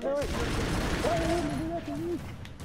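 Rapid gunfire from a regular gun in the side-scrolling game Broforce, a dense continuous burst with a rising voice partly audible over it.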